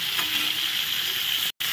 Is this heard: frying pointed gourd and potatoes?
yes